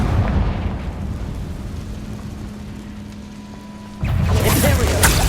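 A Confringo fire spell explodes in Hogwarts Legacy, heard as a rumbling, crackling blast and a thick low roar that dies down, then erupts again as a bright, noisy burst near the end.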